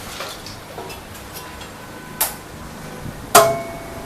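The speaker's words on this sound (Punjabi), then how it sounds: "ਇਹਦੇ ਨਾਲ ਲੋਹਾ ਵੀ ਵੱਢ ਕੇ ਦਿਖਾਓ" A steel spade (kahi) blade strikes iron with two sharp, ringing metallic impacts, the second louder and more resonant, over quieter faint clinks and background noise.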